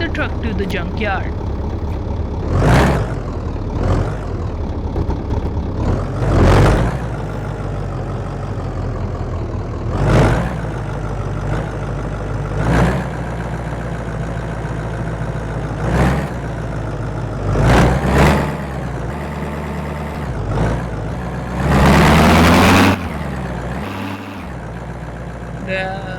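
A junkyard-built truck's engine runs loud and steady at close range, rumbling without pause while someone talks over it in bursts.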